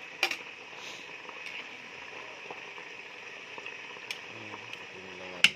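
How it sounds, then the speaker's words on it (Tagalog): A quiet, steady bubbling hiss of chicken tinola soup boiling in a pot, with a few sharp clinks of utensils scattered throughout. "kumukulo na"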